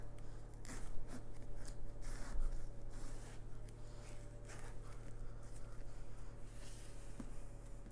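A knife cuts a whole watermelon in half, giving a steady rubbing and crunching scrape over a constant low background hum.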